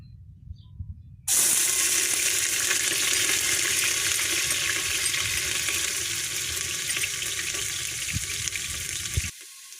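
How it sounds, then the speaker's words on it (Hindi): Chopped onion dropped into four tablespoons of hot oil bursts into a loud, steady hiss after a quiet moment, then keeps frying evenly before cutting off abruptly. "Now we will add chopped onion."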